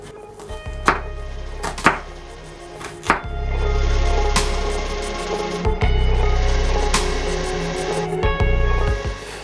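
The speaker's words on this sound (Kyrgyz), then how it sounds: "биз пиязды майда кылып туурайбыз" An onion being finely chopped with a knife on a board, with several sharp, separate knife strikes at first, then a low rumbling stretch broken by more irregular cuts.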